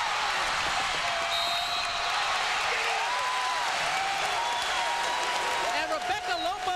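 A dense basketball arena crowd at a 1995 UConn vs Tennessee women's game roars with sustained cheering and applause, a loud continuous wash of noise with a commentator talking over it throughout.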